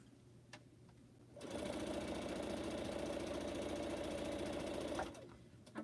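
A sewing machine stitches fabric for quilt pineapple blocks, running in one steady, rapid whirring burst of about four seconds up close, with quiet room tone before and after.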